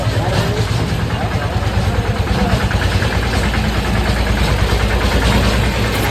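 An auto rickshaw engine idles steadily and close by in Varanasi, a continuous low rumble with rattling vibration throughout.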